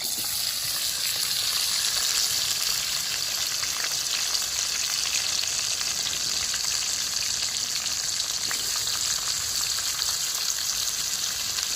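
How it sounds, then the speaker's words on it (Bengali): Jackfruit fries in plenty of mustard oil in a hot kadai, making a loud, continuous, rain-like sizzle that stays even throughout, with no voices. "পাশে এঁচড়টা কষা চলছে"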